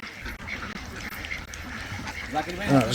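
Ducks quack in an enclosed duck farm near a bathing house, a continuous busy murmur of calls with louder nearby quacks near the end.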